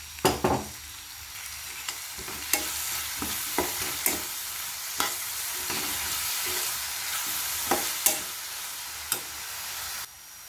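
Green chilli paste fries in a pan for cucumber dal, with a steady sizzle and hiss under repeated sharp scrapes and taps of a spoon stirring against the pan, close and without talk.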